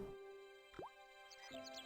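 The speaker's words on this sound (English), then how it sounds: "we want to turn on the tap" A tap turned on in the point-and-click game Broken Sword, set in Lochmarne Castle: a single creaking squeak rising sharply, followed by a steady running-water hiss and faint dripping plops against a soft background tone.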